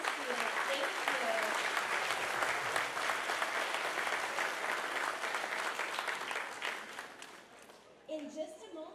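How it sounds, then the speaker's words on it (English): An audience in a school auditorium claps steadily for young student performers, a broad sustained wash of applause that tapers off near the end as a voice begins speaking over it. "let's give another round of applause to our talented Palm Pointe players and one of the students"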